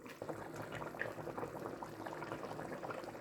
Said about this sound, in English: Let's turn the heat down a bit and give it a stir.